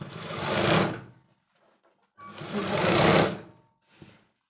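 A sewing machine stitches a school uniform skirt in two steady, whirring runs of about a second each, separated by a pause, followed by a brief short burst at the end.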